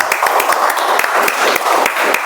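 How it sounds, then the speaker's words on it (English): Close, loud round of audience applause at a club meeting, with individual claps distinctly audible in a brisk, uneven rhythm from a small group. "Let's have a round of applause."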